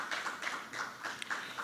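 A conference audience gives a round of applause, a faint steady patter of many hands clapping in a hall, heard alone.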